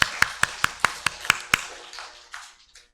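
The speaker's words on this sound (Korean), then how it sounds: "우리 환영의 박수 감사합니다" A church congregation claps in welcome: about eight sharp, evenly spaced claps in unison, then the sound fades into a few softer scattered claps in a reverberant hall.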